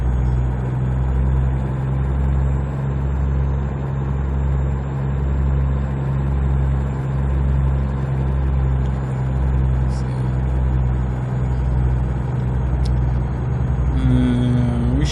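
Steady low drone of a heavy truck engine labouring uphill in American Truck Simulator, a deep pulsing rumble with a thin whine above it and a brief rising tone near the end.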